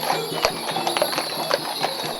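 Hooves of nearly sixty horses harnessed to a decorated cart clip-clop in a steady, overlapping patter during a summer Saint Éloi procession through Châteaurenard, moderately close with crowd ambience.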